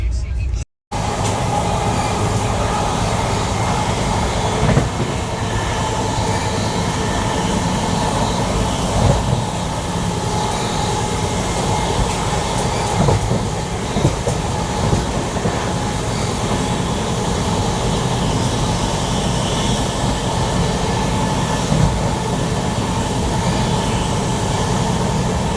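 Steady rumble and rattle inside a moving passenger carriage of the Netaji Express, an Indian long-distance train, continuing loudly throughout with a brief dropout near the start and faint voices mixed in.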